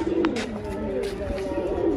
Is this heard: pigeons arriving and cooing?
yes